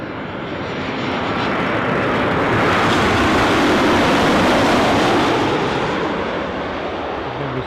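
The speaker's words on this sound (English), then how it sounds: "If memory serves, this is the 737 Ryanair from Gdansk." A Ryanair Boeing 737 from Gdansk passes overhead near Newcastle Airport, a loud, broad jet roar that swells steadily to a peak mid-pass and then eases slightly, with no voices.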